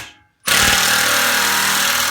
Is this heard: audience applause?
no